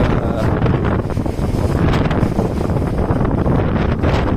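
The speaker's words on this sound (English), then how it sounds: "That's how windy it is out today, guys." Strong wind roars and buffets steadily against the microphone, a loud continuous rumble with no voices.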